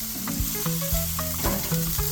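Jamaican jerk chicken sizzles steadily on a grill, a close, continuous crackling hiss of meat cooking over the heat, heard alone with background music tones and no talking.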